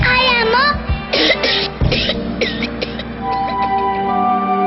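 Several sharp coughs in quick bursts, close up, with a voice and background music running underneath.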